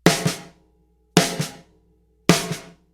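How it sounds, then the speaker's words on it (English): Three snare backbeats crack at even intervals, each loud accent followed closely by a softer ghost tap, with clean decay between hits and no other instruments. "So your snare backbeats on 2 and 4 should sound like this."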